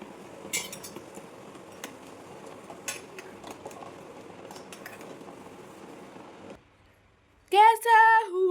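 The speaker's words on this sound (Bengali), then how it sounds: "তো আমি এখানে ডিম সেদ্ধ বসাচ্ছি" A pot of eggs is set on the stove to boil, bringing scattered metallic clinks and light clatter, then a brief hush before music starts up loudly.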